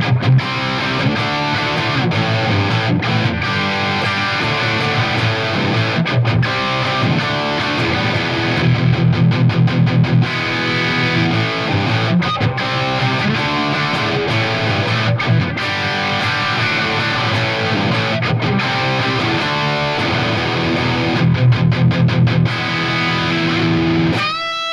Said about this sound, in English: Dirt on the Red Channel of the Mesa.